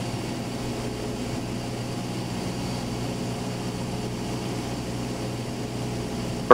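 A Cessna light aircraft's propeller engine drones steadily and evenly at moderate level throughout, with no voices and a brief sharp click at the very end.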